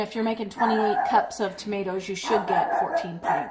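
A dog barks and yips several times in an indoor kitchen during home salsa canning, mixed in with someone talking.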